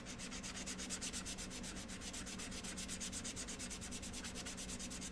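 Hand sanding on a wooden craft stand from a bunny craft kit, a close, steady rhythmic rubbing scrape of rapid back-and-forth strokes with no talking.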